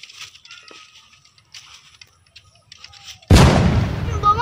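A bomb explodes in the Free Fire video game with a sudden loud, broadband boom that rolls on, after a stretch of faint game sounds.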